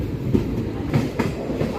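A passenger train on the Raipur–Visakhapatnam route rumbles steadily along the tracks with rhythmic clickety-clack of wheels over rail joints, close and continuous.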